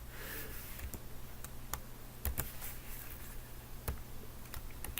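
Quiet typing on a computer keyboard, with scattered individual key clicks at an uneven, slow pace over a steady low background hum; no talking.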